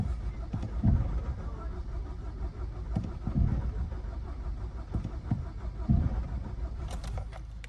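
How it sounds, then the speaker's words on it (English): A Nissan Juke engine cranks without catching, in several separate bursts of churning starter noise spread across the clip, with quieter idle-like rumble and faint voices between attempts. "Shit, it won't start."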